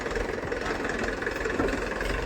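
A tractor engine idles steadily on a farm, a continuous low rumble with a fine regular knock and no break or change in pace throughout.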